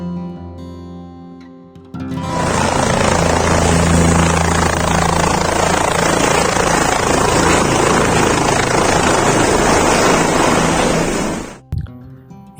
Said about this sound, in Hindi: ये है हेलीपैड, जहाँ पे हेलीकॉप्टर द्वारा फाटा या गुप्त काशी से डायरेक्ट आया जाता है।